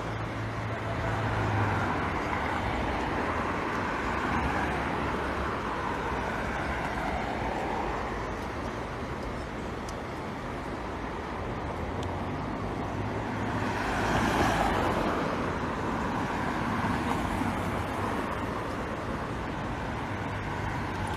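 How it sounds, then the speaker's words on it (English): Light road traffic in Bridgetown, Barbados, rumbles as a steady, moderately loud wash, with one vehicle swelling nearer and passing partway through. "hopefully in no traffic, well, limited traffic."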